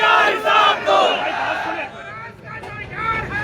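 A large crowd at a protest sit-in in Sukkur chants slogans back in unison, loud and close, with rhythmic shouted phrases swelling and dipping over steady crowd noise.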